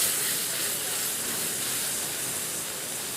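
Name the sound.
puree of boiled onions added to ginger and garlic, sizzling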